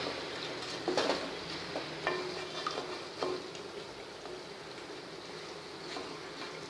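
Vegetables and cooked pasta being stirred into a hot white sauce in a pan, with a soft steady sizzle and occasional scrapes and knocks of a spoon against the pan.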